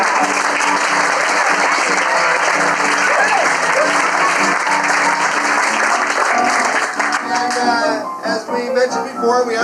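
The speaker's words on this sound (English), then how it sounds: "So give them a hand too." Sustained applause from a live audience at a 1986 Flash Family show, steady and dense for most of the stretch, then thinning as voices begin to come through near the end.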